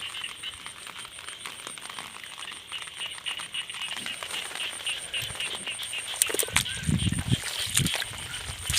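Frogs croak continuously outdoors in a natural setting while shellfish are gathered, a dense chorus of rhythmic calls, moderately near, with some louder splashy bursts toward the end.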